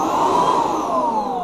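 A battery-powered backpack leaf blower motor gives a close, continuous electric whine with a rushing airflow hiss, the pitch easing slightly downward.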